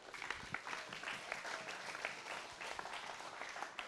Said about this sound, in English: So how about a round of applause for these guys?